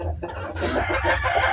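Chickens cluck steadily and fairly close at a backyard coop where hens are laying eggs, a continuous busy run of short calls with no voices over it.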